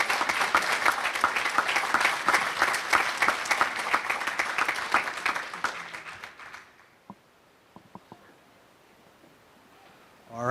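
A graduation ceremony audience applauding its graduates with sustained, fairly close clapping that fades out after about six seconds, leaving near silence with a few scattered claps.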